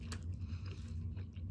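Someone bites into and chews a cheese waffle up close, giving soft, quiet crunching and mouth sounds in a steady rhythm, with no talking.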